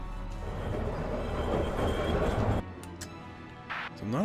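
Rumbling tram ride from the Valkyria Chronicles video game, a steady broadband roll for over two seconds that abruptly cuts to quieter game ambience with brief clicks and a short whooshing burst.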